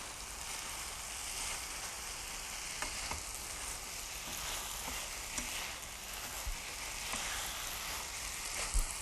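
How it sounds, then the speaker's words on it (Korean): Stir-fried fresh ginseng, burdock and onion tossed together in a pan for japchae make a quiet, continuous sizzle, dotted with light scattered clicks of the mixing utensils. "우리 아까 볶아낸 요 재료 있죠요 수상하고 우엉, 양파. 그래서 이제 어우러지게 섞어주세요."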